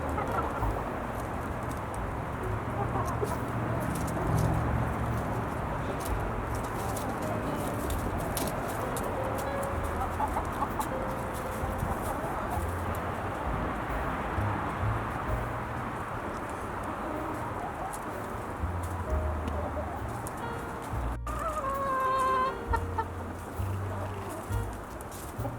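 A rooster and other backyard chickens cluck softly on and off over a steady outdoor hiss, with occasional brief coo-like calls and no talk.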